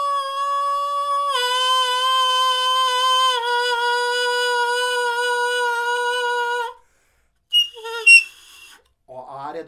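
A saxophone mouthpiece played alone in the high whistle register gives sustained, bright whistling tones that step up in pitch over several seconds, then stop, followed by brief squeaky bursts and a short rising squeal.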